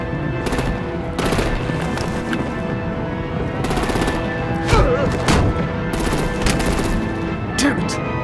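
Rapid machine-gun bursts and heavy gunfire blasts from the Batman: The Enemy Within video game, loud repeated volleys with short pauses and a booming hit near the middle, under faint background voices.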